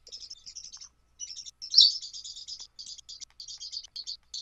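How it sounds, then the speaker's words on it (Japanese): Pet birds chirping indoors, with rapid high-pitched tweets and chirps in quick bursts that carry on almost continuously, fairly close and clear, with no talking over them. "あ、ごめんね、鳥です。"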